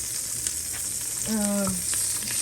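Butter melts and sizzles in a hot pan as the base for Chinese fried rice, giving a steady close frying hiss with a short scraping stir partway through.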